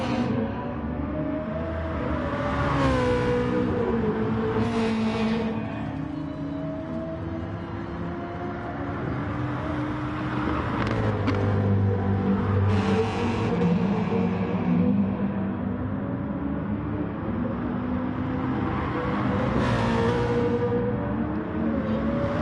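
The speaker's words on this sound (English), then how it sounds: "So as these cars begin to circulate, just to finalise setups, get themselves correctly tuned in." Race cars circulate on the Sardegna track in the video game Gran Turismo Sport, engines droning steadily and swelling as cars pass, with repeated rising and falling revs over a continuous mechanical roar, without talk.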